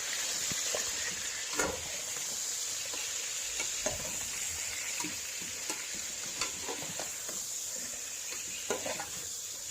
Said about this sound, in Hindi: साथ ही इसमें चम्मच चलाते रहें आप।